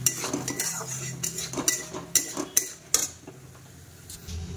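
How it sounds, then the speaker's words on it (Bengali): Dal being stirred in a wok, with a utensil clinking and scraping against the metal in several distinct strokes, close and fairly loud, with no talk. "হালকা কড়াইয়ে নেড়ে দিলাম একটু"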